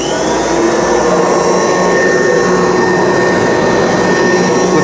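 A 1979 Kirby Tradition upright vacuum fitted with a metal fan roars loudly and continuously, a close, steady whooshing whine with a high tonal edge and no pauses.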